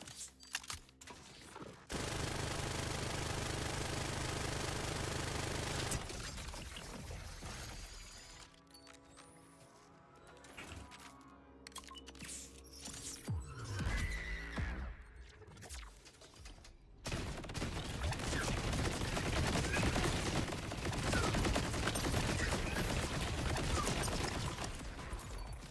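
Rapid automatic gunfire from a weapon in a video game, long sustained bursts with mechanical clatter between them, steady and fairly loud throughout.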